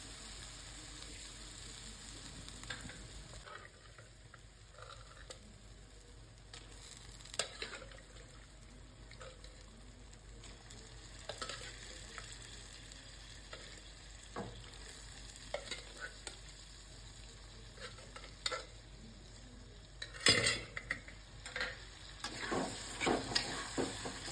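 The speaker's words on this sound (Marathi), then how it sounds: "कड्याने तेल सुटायला लागलेलं आहे आता मी टाकून घेणार आहे त्याच्यामध्ये मटण" Mutton frying in hot oil in a kadai for a Dharashiv-style dry mutton dish, a continuous soft sizzle with intermittent scraping and stirring clinks, close and fairly quiet, with no talking.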